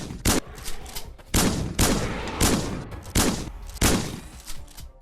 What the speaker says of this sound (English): The guns sound as they should,